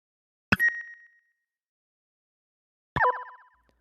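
Two short synthetic Pokemon GO menu pings, a beep layered with Foley for a sonar quality, each ringing out with a shimmering echo tail, separated by a pause of silence.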